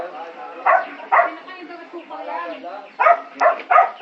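A dog barks in short sharp bursts, a pair early on and a quick run of three near the end, close by, with a person's voice talking in between.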